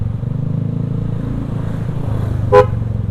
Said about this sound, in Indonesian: Nah mirip-mirip suara mobil, klakson mobil.